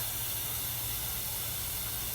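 Fuel injector spraying on a cleaning rig, a steady, even hiss of fine mist that holds constant throughout without a break, fairly quiet and unaccompanied.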